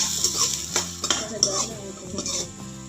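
Chopped onions and ginger frying in a pan for a street-style bread pakoda snack, with a spoon scraping and clinking against the metal as they are stirred over a soft sizzle.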